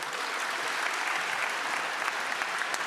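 Sustained audience applause at a EuroPython 2025 Friday lightning talks session, dense and steady throughout, a large room of clapping hands filling the space with no voices on top.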